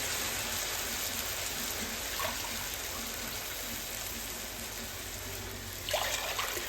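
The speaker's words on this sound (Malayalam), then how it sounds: "നമുക്ക് ഇതിലേക്ക് വെള്ളം ഒഴിക്കാം." Steady broadband hiss of water poured onto frying rice in a hot pan for chicken biryani, a continuous watery trickle and sizzle with a brief louder splash near the end; no talking.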